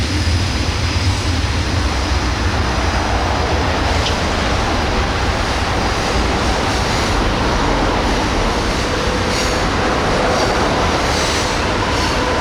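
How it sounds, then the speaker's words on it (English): An Amtrak California Zephyr passenger train rumbles past on the Donner Pass line, a loud, steady, dense roar of wheels and cars filling the whole stretch with faint squeals and clanks. "Amtrak train number 5, the eastbound California Zephyr, was given clearance to pass the big boy"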